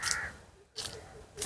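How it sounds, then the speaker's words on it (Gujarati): Two loud, harsh bird calls come close together, then a third begins at the end, cutting through a quiet outdoor background. "પક્ષીઓનો કલરવ અને બહુ શાંતિ"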